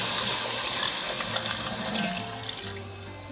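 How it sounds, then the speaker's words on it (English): Six cups of homemade broth pour into a soup pot for zuppa toscana, a steady splashing rush of liquid heard up close with no talking. "Now, we're going to add our broth."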